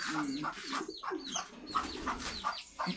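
Breeder pigeons cooing inside a loft, a steady run of soft repeated coos and calls from several birds close by, with no voices over them.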